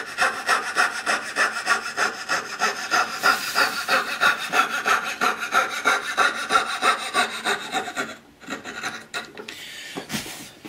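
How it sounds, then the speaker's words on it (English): A hand fret saw cutting away dovetail waste from a wooden workpiece, close and rhythmic rasping strokes repeating steadily for several seconds before slowing and stopping, with a brief scrape at the end. "I'm going to use my fret saw, same way I would if I was clearing dovetail waste"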